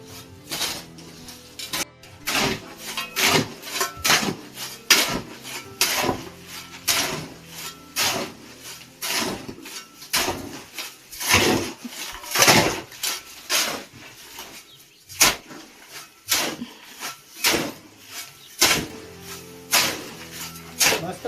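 Cement being turned over and mixed by hand with a tool, a steady series of scraping, gritty strokes in a fairly regular rhythm, close and moderately loud throughout.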